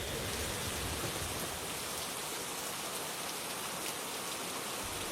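Heavy rain pouring down at a village station in the evening, a dense, continuous hiss of downpour drumming on surfaces without any break.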